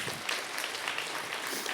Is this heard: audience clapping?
yes